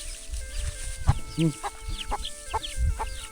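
Chickens cluck in short, scattered bursts, with a few louder squawks. The sound is nearby and set against a quiet outdoor background.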